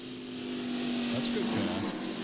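NASCAR Craftsman race trucks roaring around the Richmond track in 1997, a steady engine drone with pitch shifts as trucks pass, under continuous race commentary.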